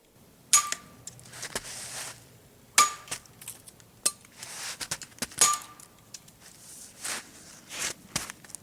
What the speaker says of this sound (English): we'll use this machete fashion and chop off those branches